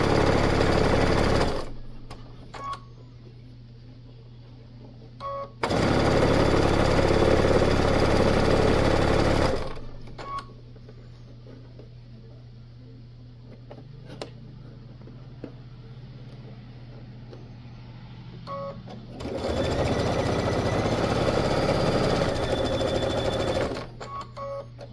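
A sewing machine stitching the side seams of a bag runs in two loud bursts with quiet pauses between, followed by a third burst near the end.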